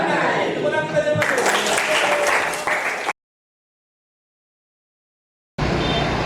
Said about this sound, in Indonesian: Tepuk tangan kita masuk.